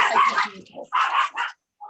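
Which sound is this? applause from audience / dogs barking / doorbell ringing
dogs barking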